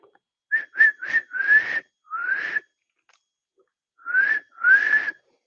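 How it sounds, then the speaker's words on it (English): A person whistles a short, breathy tune up close: three quick notes and two longer ones, a pause, then two more rising notes. "apparently I'm not whistling well today"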